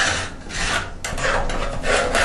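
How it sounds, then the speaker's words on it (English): Old shower grout is scraped out of tile joints with a screwdriver in a few rasping back-and-forth strokes, close and gritty, with no talking. "The grout comes out quite easy by just stroking it with a screwdriver."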